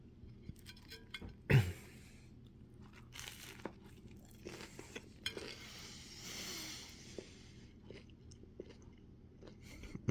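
Someone eats an egg salad sandwich at a lunch break, with quiet, soft chewing and crunching throughout and one sharper, louder bite or rustle near the start. No one speaks.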